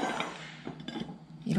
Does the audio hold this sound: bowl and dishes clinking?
yes